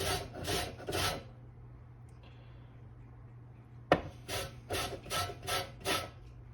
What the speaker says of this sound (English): Zest this lemon.